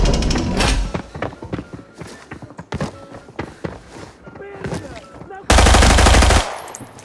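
Rapid bursts of gunfire in an Indonesian battle-royale style shooter, firing at a bot in the armory map: several staccato shots and thuds, then a dense sustained automatic burst near the end, with people talking around them.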